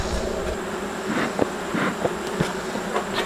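Honeybees buzz continuously around the listener at their hive, a dense droning hum with individual insects passing close by, no voices.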